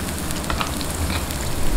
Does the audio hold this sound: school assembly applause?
no